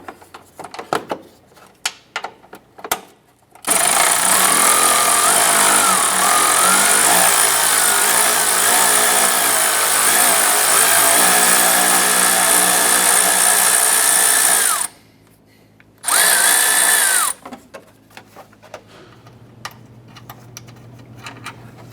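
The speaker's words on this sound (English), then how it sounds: "10mm socket, let's get it loosened and remove that." A power tool with a 10mm socket loosens a bolt reached through the fender liner pocket of a 2011-2018 Ram 1500; a loud, steady whir runs about eleven seconds, stops, then gives a short second burst, with ticks and clatter around it.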